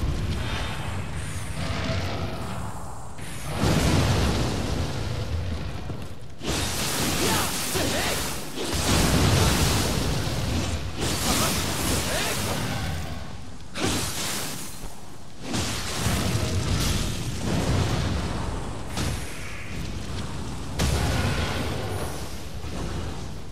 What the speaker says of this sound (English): Death by explosion.